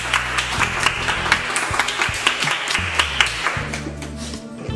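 Steady applause from a crowd at a religious gathering, dense overlapping claps with rhythmic accents running throughout, mixed under a sustained musical hum.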